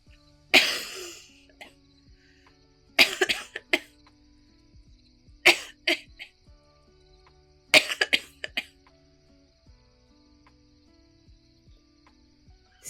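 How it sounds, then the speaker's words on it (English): Someone close by coughs in a few short fits, two or three harsh bursts each, separated by quiet pauses with faint background hum. "I feel a cough coming on."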